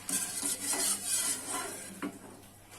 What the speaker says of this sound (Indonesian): Selama direbus, aduk-aduk terus supaya santannya ini tidak pecah ya.